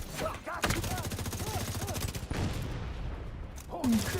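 Shooting in The Division's SHD Exposed mode, a fast, steady stream of automatic shots rattling for several seconds, ending in a few scattered bursts, with in-game voices heard over the firing.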